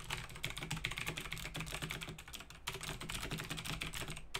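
Rapid, continuous clicking of keys on a computer keyboard, close and moderately loud, with no voices.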